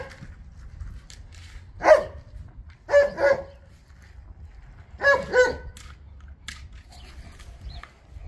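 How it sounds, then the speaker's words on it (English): A dog barks in a handful of separate woofs, single and doubled, at moderate distance, with quiet gaps between them. "I hear Rose over there barking too"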